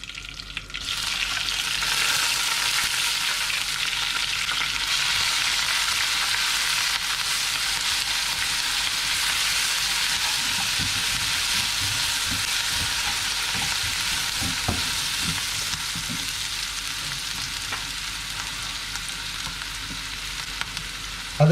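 Crushed ginger frying in hot oil for a mixed beetroot pickle, a steady loud sizzle running the whole time with occasional scraping and stirring sounds later on.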